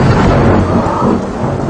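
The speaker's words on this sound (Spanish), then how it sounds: "Me friquean los truenos, ¿ok?" Loud, close thunder rumbles through a heavy downpour, a dense roar of rain under a deep, rolling boom that never lets up, with no voices.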